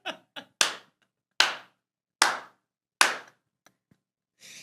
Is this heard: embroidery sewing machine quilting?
no